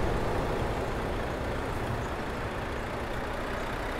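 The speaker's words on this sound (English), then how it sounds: "Here's the truck in all its glory." A Renault T Evolution truck engine hums with a steady, low, droning rumble in Euro Truck Simulator 2, constant and unchanging with no voices.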